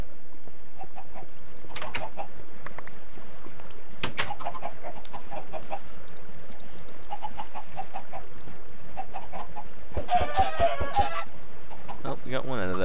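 Chickens in the Minecraft video game cluck in short, scattered bursts across the scene, loud and close, with a denser flurry of clucks near the end over steady game background noise.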